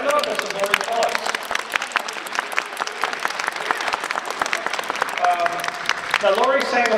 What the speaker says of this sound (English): will you please welcome our Turandot and some more applause.